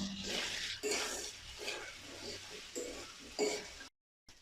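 Banana flower sautéing with dried chili paste in a pan, stirred in repeated scraping strokes over a steady sizzle, close, ending in abrupt silence.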